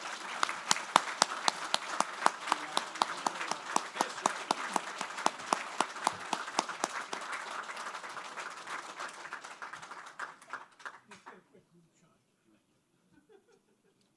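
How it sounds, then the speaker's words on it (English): Applause for New Jersey golf clubs at a golf hall of fame ceremony: a crowd in a hall claps steadily for about ten seconds, then the clapping thins out and fades to near silence. "Let's give these clubs a round of applause."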